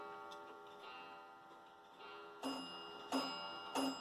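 Clocks ticking quietly indoors in a room with a shortwave radio setup, faint steady ticks joined by three louder chiming strikes in the second half.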